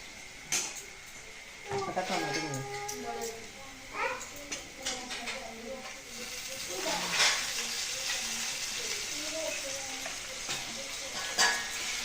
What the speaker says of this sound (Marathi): कांदा लालसर व्हायला पाहिजे ना